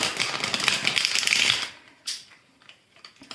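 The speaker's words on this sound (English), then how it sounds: "So you focus on your person as we shuffle the cards." Tarot cards being shuffled by hand, a close, dense riffling rustle lasting over a second, followed by a few softer taps and slides as the deck settles.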